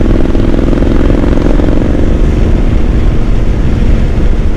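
Motorcycle engine pulling hard out of a turn on a road at about 45 mph, a loud, steady droning roar close to the rider that holds throughout with no pause.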